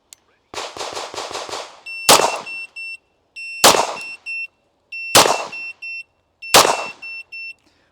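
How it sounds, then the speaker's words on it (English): A handgun fires outdoors after a beeping shot timer, giving a quick string of close cracks followed by four loud separated shots, each with a sharp electronic beep and a short decay. "that was 4 shots that I just did"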